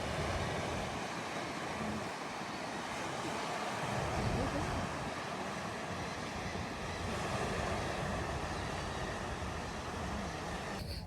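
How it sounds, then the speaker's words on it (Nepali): A river flowing beside its bank with wind buffeting the microphone, a loud, continuous broadband rush with no breaks, close and heard without talk. "खोलाको छेउमा छौँ।"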